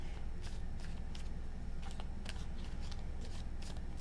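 Tarot cards are shuffled in a steady run of crisp riffling bursts, about eight distinct flutters spread evenly across the stretch, close and clear over a constant low room hum with no voices.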